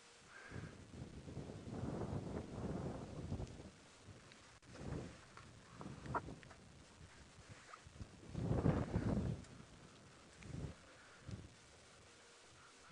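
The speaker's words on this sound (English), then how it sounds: "You can probably hear the wind. It's coming through in gusts at the moment." Gusty wind buffets a microphone outdoors on an evening safari drive, rising and falling in uneven surges with quiet lulls between them.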